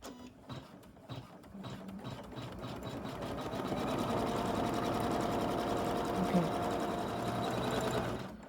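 An embroidery machine stitches an in-the-hoop tissue case, starting with a few separate clicks and short runs, then settling into a steady rapid mechanical stitching whir that continues to the end, close by.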